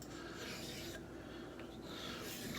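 A Wade & Butcher straight razor scrapes along a diamond sharpening plate in a continuous, faint, gritty rasp with light pressure, close and unbroken, with no talking.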